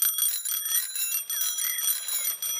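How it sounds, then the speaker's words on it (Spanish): A bright, metallic bicycle bell rings in rapid repeated trills, loud and close, with short pauses between bursts in a children's cartoon. "Freddy Zorro ahora tiene dos campanas de bicicleta."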